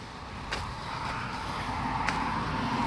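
A car passes on a busy road close to a fishing pool, a steady broadband rumble of tyres and engine that swells gradually across the clip with no voices.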